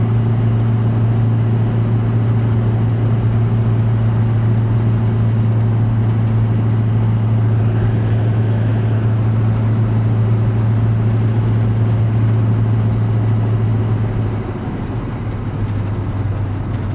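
A Kodiak truck cruises at 55 mph around 1700 RPM, a loud, constant low drone of engine and road noise from inside the cab that eases slightly toward the end.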